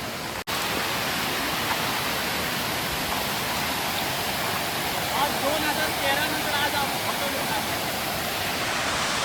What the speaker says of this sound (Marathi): हा धबधबा खरंच मनमोहक दृश्य दृष्ट्या दृश्य आहे